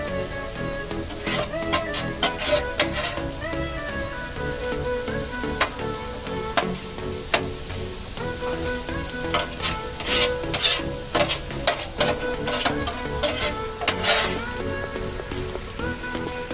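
Mexican bacon street corn with lime being stirred and mixed on a Blackstone griddle, scraping spatula strokes over a steady sizzle of frying, close and continuous.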